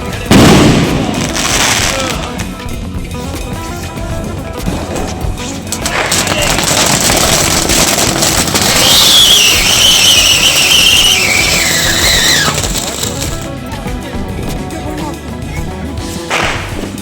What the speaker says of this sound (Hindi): देव उठाने के बाद मैं वे पटाखे फोड़ती हूँ।